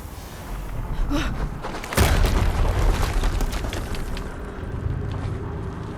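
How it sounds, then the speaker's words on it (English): An explosion in the video game Horizon Zero Dawn lands as a heavy boom with a deep rumbling tail, after lighter thumps and pops, while the game's background sound continues underneath. "Another explosion."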